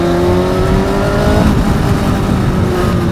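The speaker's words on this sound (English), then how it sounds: "Is that the Z900?" A Kawasaki Z900 motorcycle engine revs loudly past on a busy road, with a rising whine over heavy wind and traffic noise.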